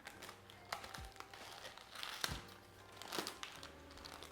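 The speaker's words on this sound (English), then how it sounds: "I'm just going to cut it so that you guys can see the tempeh." A plastic bag holding a block of homemade tempeh being cut open, giving quiet crinkling and crackling with a few sharper snips, close and soft.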